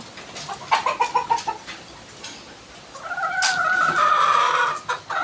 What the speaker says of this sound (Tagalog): Ayan po ang manok ng kapatid ko.